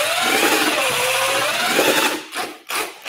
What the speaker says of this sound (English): Get your drill with your mixer blade.